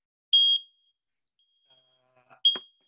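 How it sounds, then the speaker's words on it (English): Two sharp, loud electronic beeps from a smoke alarm, about two seconds apart, with faint clatter in between. "That's our fire alarm."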